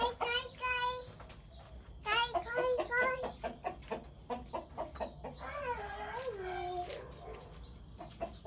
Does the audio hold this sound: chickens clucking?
yes